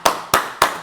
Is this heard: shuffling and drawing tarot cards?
no